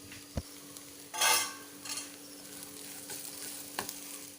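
Potatoes fry in a pan with a soft, steady sizzle. Occasional spatula scrapes and light utensil clinks sound close by, and one louder stirring rustle stands out near the start.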